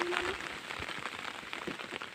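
Rain falls steadily on a surface near a farm field in Bukidnon, a dense even patter of drops that fills the whole stretch with no speech over it.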